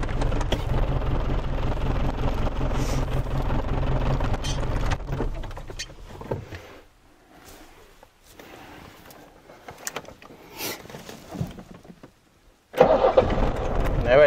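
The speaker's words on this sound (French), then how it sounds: "Si je le coupe, est-ce qu'il redémarre là en étant encore froid?" A cold Iveco diesel van engine cranks and catches, running loud and rough with a steady idle, dropping away midway before the engine noise returns strongly near the end.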